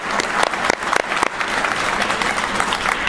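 An audience at a talk on North Texas in the First World War claps, a steady, dense burst of applause that fills the room for a few seconds.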